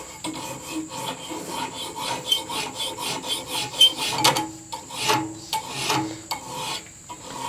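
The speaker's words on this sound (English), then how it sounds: "So I'm trying to get that angle filed in there now that I want that nice even bevel." A metal hand file rasps a bevel onto the steel blade of a Scandinavian woodcraft knife, with uneven one-directional strokes, scraping and gritty, each followed by a brief pause, loud and close, with no talking.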